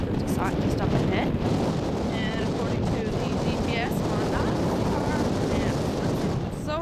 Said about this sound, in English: Now it's a little bit of a windy day here